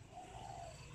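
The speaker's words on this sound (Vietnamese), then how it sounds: "Thì gọi là giống chim đầu nhỏ mỏ đinh cánh tiên." A small-headed, long-beaked pigeon breed with crossed wingtips gives a single soft, low coo, faint and brief against quiet background hiss.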